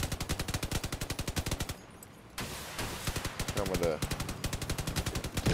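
Rapid machine-gun fire from combat vehicles in Crossout rattles in fast, even bursts, pausing briefly before resuming loudly, with someone commenting over the shooting.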